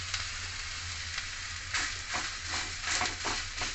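Gram flour batter pancake sizzling steadily in a hot pan, with a continuous frying crackle and a few louder bursts as it is pressed and turned, close and alone without talk.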